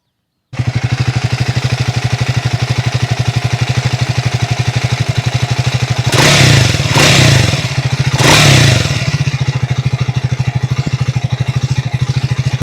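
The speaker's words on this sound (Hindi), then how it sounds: "किस-किस की बाइक में कितना लेवल का शिम नॉइज़ आ रहा है" A Triumph Speed 400 motorcycle engine with shim noise idles close by with a rapid, even mechanical ticking, and briefly revs twice partway through before settling back.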